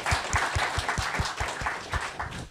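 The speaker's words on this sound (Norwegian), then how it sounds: "Så det synes jeg vi skal gi deg en ekstra applaus for." Applause from a lecture audience, a steady patter of many hands clapping together for a couple of seconds at moderate volume, with no talk over it.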